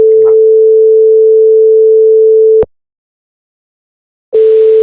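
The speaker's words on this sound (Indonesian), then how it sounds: "ini adalah suara original watermark." Steady pure test tone used as original audio before watermarking, holding loud and unchanging for over two seconds, cutting to silence, then returning abruptly near the end.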